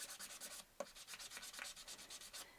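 Sandpaper rubs rapidly back and forth along the edges of wooden hearts in quick, even strokes, close and fairly quiet, with one sharper knock partway through.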